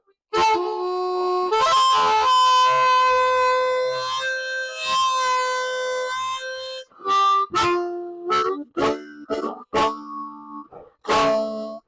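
A harmonica sounds a long held note that bends from lower to higher pitch, then breaks into shorter separate blasts and chords toward the end; close, solo, with no voices.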